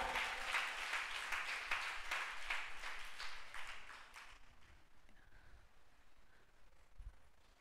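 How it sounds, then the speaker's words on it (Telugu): A church congregation bursts into rapid, dense clapping for about four seconds, fairly distant and moderate in level, before it fades into a quiet room. "చప్పట్లు కొట్టు"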